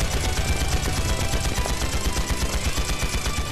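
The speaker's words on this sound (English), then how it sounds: "Return fire!" Sustained automatic gunfire in the video game Trails into Reverie, a loud, dense rattle of rapid shots running continuously with no pause and no talk over it.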